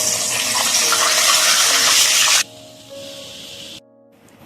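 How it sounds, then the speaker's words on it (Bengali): Whole mace, cinnamon, cardamom, cloves and cumin hit hot oil for a mutton curry, producing a loud hissing sizzle that drops sharply after about two seconds and then fades. "তেল গরম হয়ে গেছে। এই তেলের মধ্যেই আমি দিয়ে দিলাম ফোড়নগুলো।"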